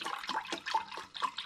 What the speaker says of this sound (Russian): А в это время я уже наливаю холодный, тонизирующий, вкусный чай.